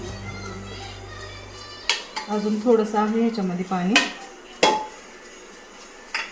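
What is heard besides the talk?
opening a pressure cooker of gajar halwa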